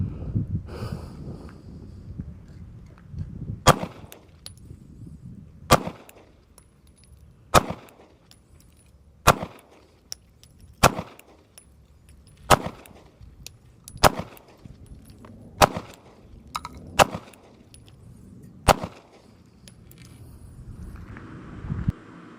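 About ten sharp gunshots from a SIG P365 Spectre Comp compensated pistol, fired at a steady pace roughly every one to two seconds, loud and close, with quiet handling noise and breathing between shots.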